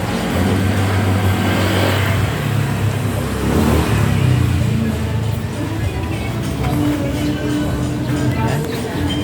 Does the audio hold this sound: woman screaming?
no